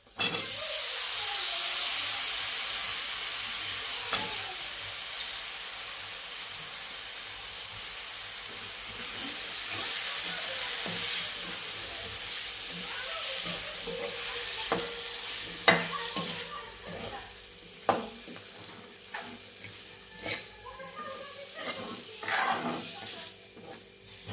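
Potatoes sizzling in hot oil, with repeated clinks and scrapes of a spoon stirring the pan; the frying stays steady and close throughout.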